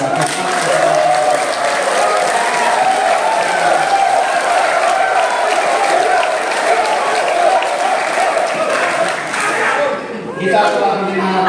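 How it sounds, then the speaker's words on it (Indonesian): Sustained applause from a large audience at an election candidate debate, dense and steady for about ten seconds before easing slightly near the end. "Mari kita berikan aplaus yang meriah kepada"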